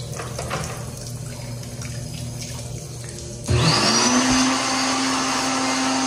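In a restroom, a faint background hum gives way to a World Dryer SLIMdri hand dryer kicking on abruptly, its loud rushing air and rising whine holding steady until the end.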